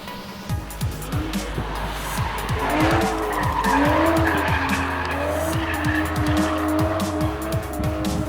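A 2014 Aston Martin Vanquish driven hard on the Bugatti circuit, its engine roaring steadily close by while tyres squeal and skid repeatedly through the corners.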